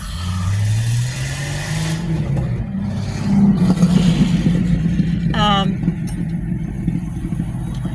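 A car engine climbs in pitch as it passes nearby, then a throaty revving rumble carries on while a voice speaks.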